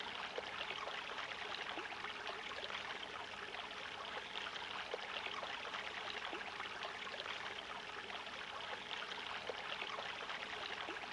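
Steady rushing of stream water, a continuous hissing wash with no clear gaps, moderately quiet and heard on its own without any voices.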